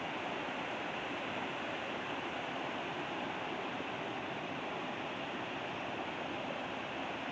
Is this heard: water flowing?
yes